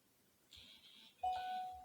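A notification chime during a podcast about women's MMA, two short bright electronic tones a moment apart, the second ringing on briefly, faint and alone without talk.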